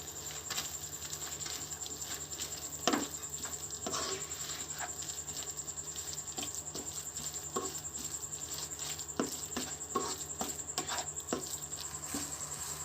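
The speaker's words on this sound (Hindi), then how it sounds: "अब मैं इसे करूँगी मिक्स।" Chicken filling with onion stirred by hand in a bowl, giving soft, steady wet patter and squelching throughout, close by, with no talk.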